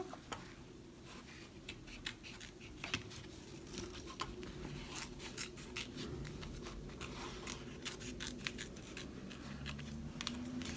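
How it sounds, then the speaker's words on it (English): Scissors snip around an embroidered in-the-hoop bat banner, making faint, close, rapid clicks and cuts in uneven bursts over a quiet background. "I cut around the eyes."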